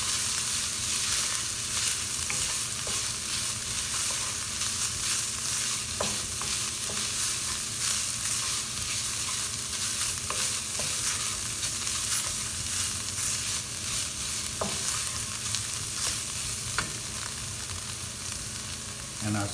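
Tomato paste mixture fries in a pan while being stirred, a steady loud sizzle running throughout with occasional soft scrapes of the utensil, no voices.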